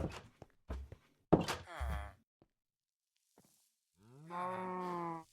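Cattle in a farming video game moo in a long, loud, drawn-out call near the end, after earlier short bursts of speech-like sounds and thumps.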